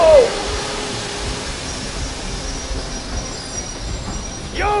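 A train in the video game Metro Exodus brakes, a sustained metallic grinding and hiss over a rolling rumble with a high squeal at the start and end, heard close and loud.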